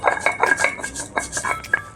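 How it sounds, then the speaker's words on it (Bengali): Poppy seeds being ground into a paste for a hilsa-in-yogurt dish, heard as a quick run of scraping, clinking taps against a hard surface, close and fairly loud with no talking. "পোস্তটা বেটে নিচ্ছি।"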